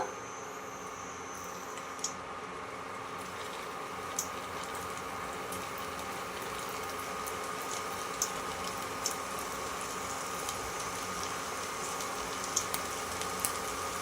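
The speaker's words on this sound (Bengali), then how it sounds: "এরকম করে আমি সবগুলো ভেজে নেব এই আলুর নিমকিগুলো" Potato nimki, flour dough made with boiled potato, frying in hot oil: a quiet, steady hiss with scattered tiny pops and crackles continuing evenly throughout, with no voices.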